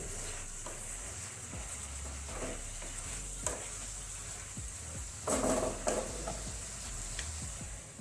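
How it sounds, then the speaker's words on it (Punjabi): Radish and potato curry cooking in a pan, a soft sizzle under several distinct stirring scrapes and knocks of a spoon, close and moderately quiet, with no talking. "ਹੁਣ ਆਪਾਂ ਚੰਗੀ ਤਰ੍ਹਾਂ ਇਹਨੂੰ ਹਿਲਾ ਕੇ ਆਪਾਂ 2-3 ਮਿੰਟ ਵਾਸਤੇ ਆਪਾਂ ਹੋਰ ਇਹਨੂੰ ਪੱਕਣ ਦਵਾਂਗੇ ਸਬਜ਼ੀ ਨੂੰ"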